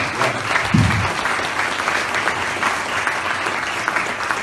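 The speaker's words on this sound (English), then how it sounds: "All right, round of applause." An audience at a 1 Million Cups startup pitch event in Daytona Beach claps steadily and fairly close, a dense, even wash of applause with a brief low voice near the start.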